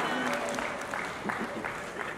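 Audience applause at a Mister Star Thailand 2023 pageant stage, steady moderate clapping from a crowd with a faint voice underneath.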